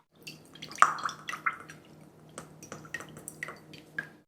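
Coconut aminos poured out for a stir fry sauce, a quiet series of close drips and small liquid splashes trickling unevenly into a bowl.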